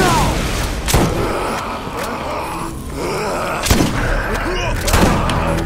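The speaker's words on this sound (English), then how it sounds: "Okay, I'm not liking this shotgun." Gunfire from a shotgun in the video game Borderlands rings out as a few heavy, booming shots at irregular intervals over a dense, busy game soundscape.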